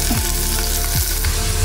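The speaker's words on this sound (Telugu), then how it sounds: "ఆయిల్ ఎట్టెక్కిన తర్వాత దీనిలో ఉల్లిపాయలు, పచ్చిమిర్చి వేసుకుందాం" Onions, green chillies and curry leaves sizzle in hot oil for an ivy gourd fry, a loud, dense crackling hiss broken by a couple of low scraping stirs, with nobody speaking.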